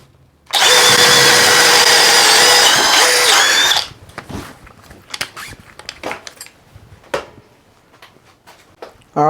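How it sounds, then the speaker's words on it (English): A cordless brushless hammer drill, Milwaukee M18 Fuel Gen 4 or Hercules 20V, bores a hole with a 1/2 inch bit: a loud, close, steady whine for about three seconds, then stops, followed by scattered clunks and rattles. "we got a 1/2 inch drill bit. I'm going to be making a hole right here."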